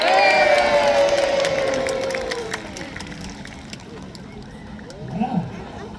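A crowd at a naval battle show on the lake in Peasholm Park, Scarborough, cheers and whoops loudly at first, with a horn-like tone sliding beneath, then fades to a murmur with a brief shout near the end.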